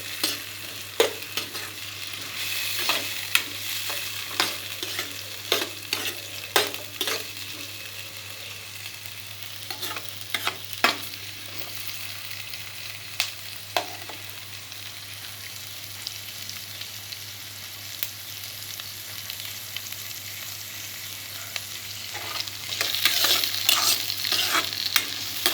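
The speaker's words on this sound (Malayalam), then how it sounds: "ഈ തക്കാളിയുടെ കൂടെ തന്നെ ഈ ഉലുവ ഇട്ട് കൊടുക്കും" Fenugreek seeds fry with tomato in a pan, a soft continuous sizzle broken by frequent sharp scraping clicks of stirring, close and moderately loud.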